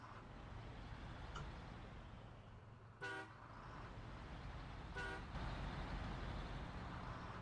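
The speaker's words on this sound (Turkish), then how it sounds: "Kamyon bayağı gürültülü." A steady low truck engine rumble drones throughout in the video game SnowRunner, with two short honking horn blasts cutting in partway through.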